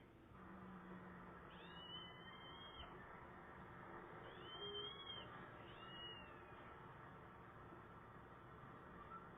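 A kitten gives a few faint, drawn-out meows at spaced intervals over a steady background hiss, with no talking.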